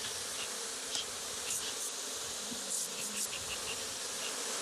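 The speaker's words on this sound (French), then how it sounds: "J'entends le ronflement des abeilles" Honeybee colony at an open hive on Réunion island, a dense continuous buzzing of many bees close by, with individual bees flying past in brief louder passes.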